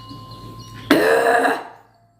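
A single harsh throat-clearing cough, loud and close, lasting under a second over a faint background hum.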